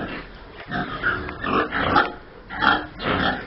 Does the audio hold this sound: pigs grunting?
yes